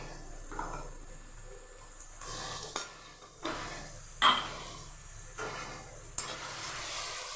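Onions fry in white oil and ghee with a soft continuous sizzle, broken by repeated scraping stirs and occasional light clinks of a utensil against the pan, close and unaccompanied by talk.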